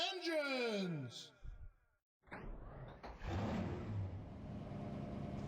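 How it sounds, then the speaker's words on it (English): Stock-car engines firing up and revving together in the NASCAR Racing 2003 Season game at Darlington, a rising roar that steadies into a loud sustained drone after a short pause, following a voice at the start. "Drivers, start your engines!"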